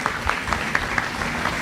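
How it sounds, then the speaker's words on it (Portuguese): A church congregation claps together during a celebration service, a dense, steady wash of applause with a few sharper claps standing out. "Vamos aplaudir."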